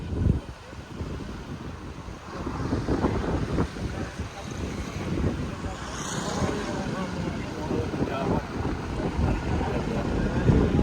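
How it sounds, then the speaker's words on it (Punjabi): Fast-flowing floodwater rushing past embankments, a broad continuous roar mixed with heavy wind buffeting on the microphone, with a voice talking over it. "ਪਾਣੀ ਦਾ ਵਹਾਅ ਦੇਖੋ ਕਿੰਨਾ ਤੇਜ਼ ਆ"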